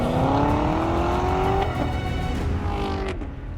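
A new Corvette ZR1 engine revving hard, a loud rising roar that climbs in pitch, drops briefly as it shifts, then climbs again before easing off, close and alone with no talking.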